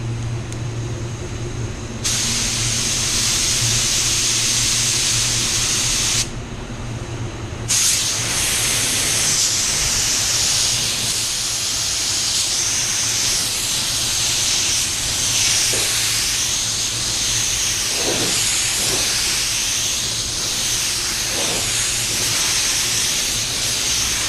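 A WS400 spray gun with a 1.3 tip at 35 psi sprays white water-based paint onto a Range Rover, giving a loud, steady airy hiss that cuts out briefly, then resumes with slight variations.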